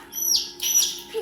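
Two high, clear dove calls ring out one after another, followed by a softer lower note, near and distinct against a quiet background.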